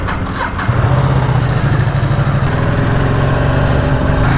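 A 2020 Ducati Diavel 1260 motorcycle engine runs out on a ride, a steady, loud, close drone that holds evenly throughout with no talking.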